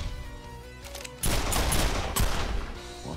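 A sudden loud burst of rapid gunfire erupts in the PS5 demo of SaGa Emerald Beyond after a quieter stretch of game sound, continuing as a dense volley to the end.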